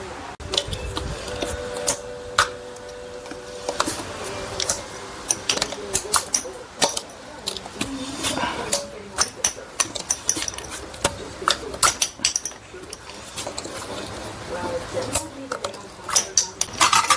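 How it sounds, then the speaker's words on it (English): A tool pries lug bolt covers off a 2010 Volkswagen CC with repeated sharp plastic clicks, snaps and metallic taps spread through the clip at close range. Light background noise runs underneath and there is little talk. "I'm going to remove those lug nuts covers. I'm going to use this tool."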